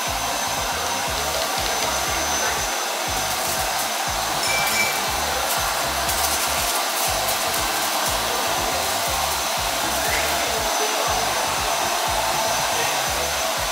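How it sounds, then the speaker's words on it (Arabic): A hair dryer blows continuously in a salon, a loud steady whooshing roar with a fluttering low hum that holds unchanged for nearly fourteen seconds, with no talking. "واسف على صوت الشسوار"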